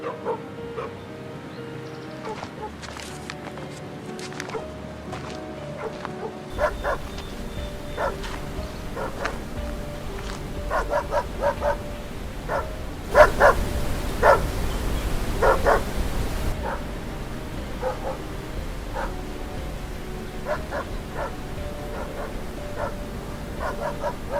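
A dog barks from a short distance in a bleak, dystopian setting, with repeated sharp barks and yips scattered through a continuous low background, the barking growing denser and louder in the middle stretch.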